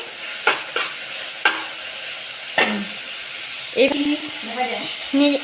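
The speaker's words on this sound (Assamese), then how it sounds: "টমেটো দিছে এতিয়া মাহী ভালকৈ লৰাই দিব" Tomatoes for Hakka noodles fry in a pan under a soft sizzle, with a spoon scraping and knocking at intervals, and a voice heard toward the end.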